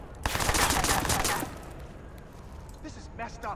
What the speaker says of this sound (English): Look at a silenced pistol.